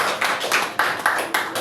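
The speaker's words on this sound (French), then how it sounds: "Est-ce qu'on peut applaudir très fort pour cette bande?" An audience claps in bursts of applause, several loud waves of clapping close together with no talk over them.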